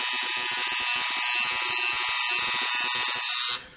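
A tattoo machine fitted with a 4-needle shader shades skin in black ink, giving a close, steady high-pitched electric buzz that runs continuously before cutting off.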